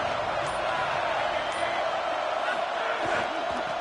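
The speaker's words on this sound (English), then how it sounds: "This crowd bringing the energy and noise early." A packed college football stadium crowd roars in a continuous, loud wash of cheering and noise, sustained and dense without clear breaks.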